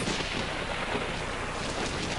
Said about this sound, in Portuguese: uma terrível tempestade elétrica ocorreu naquela noite